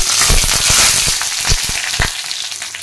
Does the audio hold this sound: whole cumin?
yes